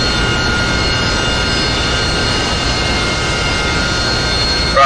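A 109 warplane takes off in the DCS World flight simulator, its engine a loud, steady, unbroken roar that holds evenly throughout with no talk over it.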